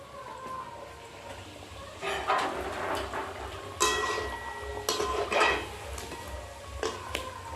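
Thekua for Chhath puja frying on a chulha stove: soft, steady sizzling broken by several louder scraping and clinking bursts of utensils against the pan, fairly close and without talk.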